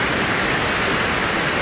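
The waterfalls at Hampi, India, pour with a steady, dense rushing roar that fills the whole moment without a break, and no voices are heard.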